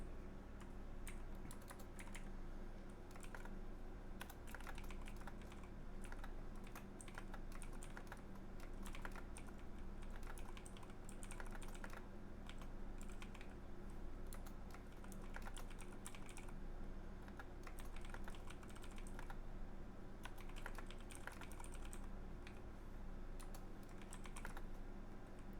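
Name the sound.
clicking of computer keyboard typing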